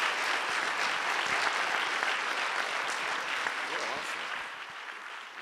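Sustained applause from an audience at a Martin Luther King Jr. Unity Day event in Seattle, a dense, steady wash of clapping that holds throughout and eases slightly near the end.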